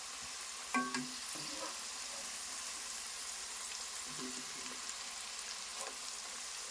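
Broad bean seeds frying in a pan for a bean pickle, a soft steady sizzle with a few light clinks and scrapes of stirring, fairly quiet and with no voices.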